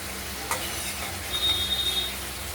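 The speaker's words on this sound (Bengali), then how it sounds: "কষিয়ে নিচ্ছি টমেটোটা সঙ্গে দিয়ে।" Katla fish curry masala with tomato frying in a pan, a constant close sizzle with a brief scrape of stirring near the start and a thin high hiss later, no voices.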